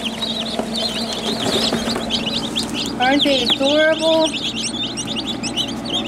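Newly hatched baby chicks peep in rapid, high chirps throughout, with roosters nearby and someone talking over them.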